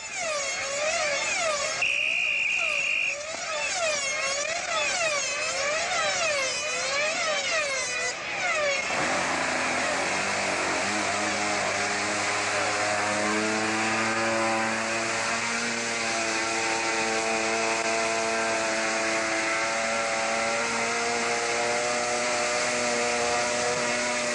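Loud control-line model aircraft engine with muffled exhaust at a world championship, revving with rising and falling pitch sweeps, then settling into a steady, muffled high drone with strong harmonics, sustained throughout.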